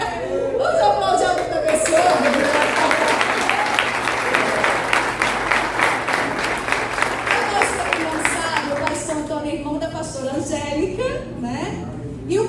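A church audience breaks into loud, dense applause that swells and holds for several seconds, then thins out. Voices talk and cheer before and after it, with some chatter and light laughter mixed in.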